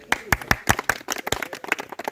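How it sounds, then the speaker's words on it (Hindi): An audience at a traders' association annual meeting, held in a forest, claps sparsely and unevenly: a handful of sharp, separate claps close by, with faint voices behind them. "तालियां।"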